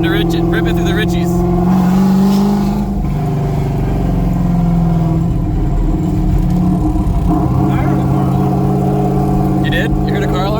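An LS-powered 500-horsepower Porsche 928 engine revving and accelerating, a loud continuous rumble that rises and shifts in pitch up close.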